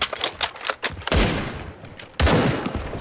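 Two loud, sharp AWP sniper rifle shots in the Turkish first-person shooter Sabotaj, each a heavy boom with a short echoing tail, following a patter of quieter, lighter gunfire.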